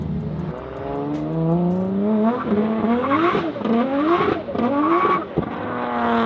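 A drift car at a Drift Masters round in Sweden revs hard nearby, climbing and dropping through a series of rapid gear changes with brief dips between pulls. The engine note is loud and sustained, with faint tire noise.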